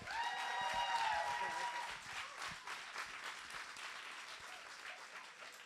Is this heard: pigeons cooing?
no